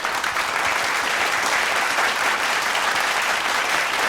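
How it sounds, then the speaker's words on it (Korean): An audience at a Korean church lecture series applauds after the lecture ends, with dense, steady clapping from many people filling the hall without a break. "오늘 강연을 위해 수고해 주신 최두현 교수님께 큰 박수 부탁드립니다."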